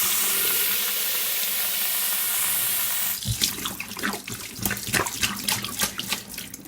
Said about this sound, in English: I'm going to rinse them.